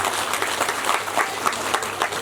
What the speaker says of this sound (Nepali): ताली बजाएर स्वागत